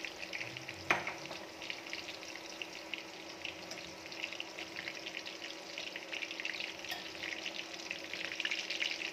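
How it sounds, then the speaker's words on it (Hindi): Turnip pieces (shalgam) fry in hot oil in a pan for a Kashmiri turnip and mutton dish, giving a steady soft sizzle with an occasional clink from the pan. "ये देखिए इस तरीके से हमें शलगम को फ्राई करना है"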